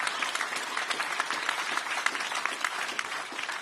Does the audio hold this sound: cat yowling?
no